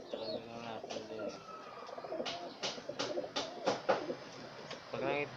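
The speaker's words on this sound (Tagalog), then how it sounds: "Dami din yung kalapati dyan o." Pigeons cooing close by in soft, throaty repeated phrases, broken by a few sharp taps or flaps, with people talking quietly in the background.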